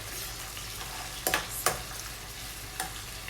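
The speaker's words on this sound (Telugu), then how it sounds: "ఆనియన్ యాడ్ చేసిన తర్వాత కొంచెం ఇదంతా బాగా మిక్స్ చేసుకోండి." Chopped onion stirred in a hot pan of oil for a chicken fry, a quiet steady sizzle broken by a few sharp scraping clatters of the spoon, no talk.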